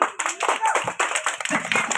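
Children clap their hands for prize winners at a school flowers day event, a dense, steady patter of many small hands, fairly close, with voices talking over it.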